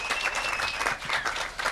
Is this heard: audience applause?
yes